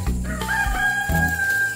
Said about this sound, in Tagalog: may manok pa dito na naninira ng tanim